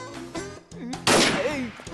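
Movie gunshot: a sharp, loud blast bursts out near the end, trailing a short echoing decay, surrounded by brief spoken dialogue and small scene sounds.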